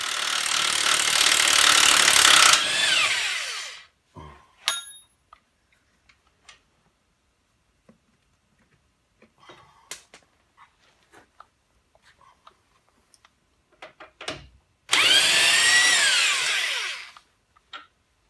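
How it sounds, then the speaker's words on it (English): Impact wrench with an 18 socket removing shock absorber bolts on an S10 truck, two loud sustained bursts of whirring hammering at start and end, separated by quiet clinks and tool handling. "Now I'm going to get an 18 impact socket, and then we're going to take this shock out."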